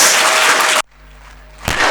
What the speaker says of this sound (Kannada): ವಿವೇಕ ಚಪ್ಪಾಳೆ ತಟ್ಟಿ ಜೋರಾಗಿ.